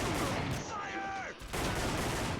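Loud, dense bursts of gunfire from the PSX light gun game Time Crisis fill the moment, cutting out briefly before resuming at full intensity.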